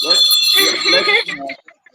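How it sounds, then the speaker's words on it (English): A bell rings out as a guest is welcomed in a talk-show setting, a bright sustained ringing heard under overlapping speech that then fades. "Let's ring a bell for you."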